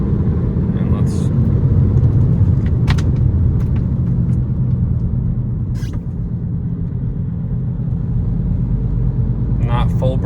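A 2014 VW Passat TDI with rusty brakes makes a continuous loud low road rumble and engine drone from inside the moving car, with someone talking over it and a few faint squeaks and clicks.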